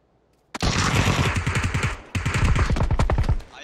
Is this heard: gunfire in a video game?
yes